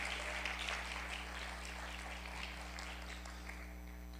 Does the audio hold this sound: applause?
yes